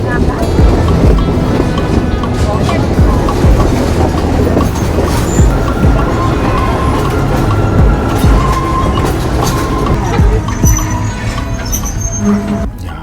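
A train without air conditioning rumbles along the rails in Sri Lanka with a loud, steady roar and rattling clatter, and a voice is heard faintly under the noise.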